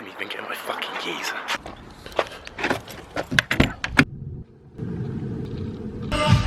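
Keys jangle in several quick metallic bursts close to the microphone, followed by a steady rumble as someone talks.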